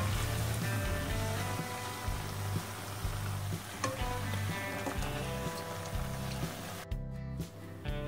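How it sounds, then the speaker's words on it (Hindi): Pakoras for kadhi fry half-submerged in shallow hot oil, a soft, steady crackling sizzle with occasional light taps, heard under a faint tonal background hum. "कढ़ी की पकौड़ियों को ज्यादा डूबा में नहीं सेका जाता है। आधी पकौड़ी डूबे उतना"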